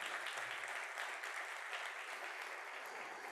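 A studio audience at a televised Quran recitation competition applauds a family, producing dense, steady clapping that holds at an even level for about three seconds with no voices over it.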